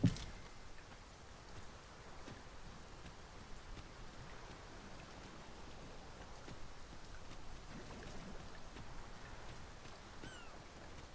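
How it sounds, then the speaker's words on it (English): Heavy rain in a video game, a steady, soft hiss of downpour that stays even and fairly faint throughout, with no voices. "It is raining most heavily."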